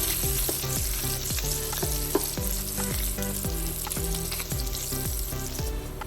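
Bacon pieces fry with green beans in a pan, a loud continuous close crackling sizzle with rhythmic stirring scrapes throughout and no voices.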